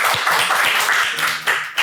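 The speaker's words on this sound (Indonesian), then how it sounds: "Tepuk tangan dulu buat kita semua" A studio audience on a televised dating show claps in a dense, lively burst of applause that stays steady and close throughout, with a couple of louder hand claps near the end.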